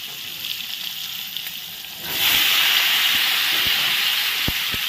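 Sliced ridge gourd hits hot oil, and a faint background sizzle jumps partway through into a loud, sustained hissing fry that stays steady, with a few light knocks of a utensil against the pan.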